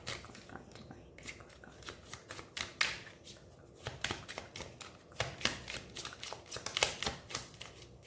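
Tarot cards being shuffled by hand for a reading, a steady run of soft, crisp riffling flicks and slaps that comes and goes in bursts, quiet and close with no voices.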